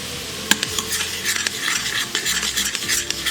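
Bacon sizzles in the bottom of an Instant Pot while a spatula scrapes across the pot floor in quick, close strokes over a steady frying hiss.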